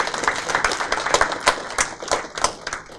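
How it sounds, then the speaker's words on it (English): A conference audience at a semiconductor industry event claps in a round of applause, with distinct individual hand claps in an uneven rhythm rather than a dense roar, close and fairly loud. "I guess we should give a big round of applause."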